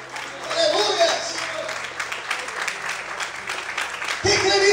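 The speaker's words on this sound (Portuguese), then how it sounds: "glorifica e aplauda o Senhor bem forte em nome de Jesus" Church congregation applauding during a sermon, a sustained wash of clapping from many people under voices, ending abruptly as the preacher's voice returns.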